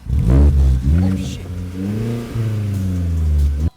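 Vauxhall Corsa engine revving loudly and close up in repeated rising pulls and sustained high-rev drones, with a brief spoken exclamation during the revs.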